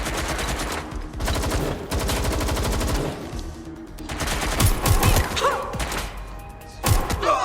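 Firefight in the video game Watch Dogs Legion, with rapid bursts of automatic gunfire and heavy thuds in repeated volleys, loud and close, alternating with brief pauses.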